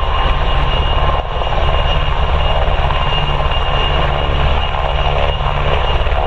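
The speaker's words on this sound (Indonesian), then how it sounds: "Ada helikopter angkatan udara." An air force helicopter passing nearby, a loud steady engine and rotor drone that holds continuously with little change in level, no voices over it.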